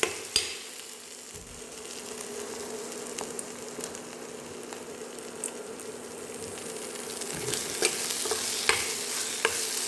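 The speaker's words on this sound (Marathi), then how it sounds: "आता हे चांगलं हलवून घ्यायचं. बघा फिरकं सांगितलं स्टीलची कढई" Masala puree cooks down in oil in a steel kadai, a continuous bubbling sizzle punctuated by sharp scrapes and taps of a spoon stirring against the metal, close and moderately loud.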